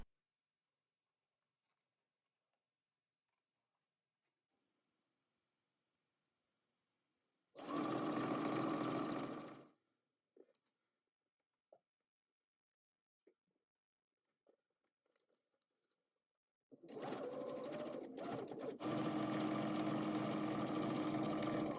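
A sewing machine stitches the seams of a ruffle-shoulder cross-back apron in two loud, steady bursts, one of about two seconds and a longer run near the end, with quiet handling between.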